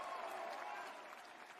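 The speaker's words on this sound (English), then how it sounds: "That's the biggest cheer of the day" A crowd at an AEW wrestling live event roars and applauds in a dense, sustained wash of cheering that stays loud and even, fading slightly toward the end.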